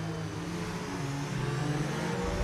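A Formula 2 safety car's engine hums and revs at the Hungary round, a steady mid-pitched drone with shifting gear tones that swells slightly louder toward the end, heard alone without talk.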